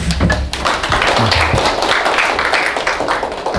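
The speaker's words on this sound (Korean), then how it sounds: "강의해주신 대신님께 감사의 박수 부탁드립니다" Audience at a lecture on the Heart Sutra applauding to thank the lecturer, a steady, close, fairly loud patter of many hands clapping throughout.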